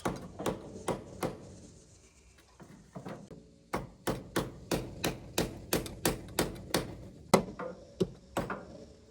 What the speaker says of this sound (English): Let's get a little brass hammer.